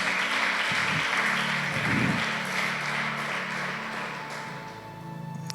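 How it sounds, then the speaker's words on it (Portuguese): A church congregation applauds at a Sunday service, with a steady wash of clapping over a sustained musical drone and a few louder bursts before it tapers off slightly near the end. "dá uma salva de palmas ao Senhor"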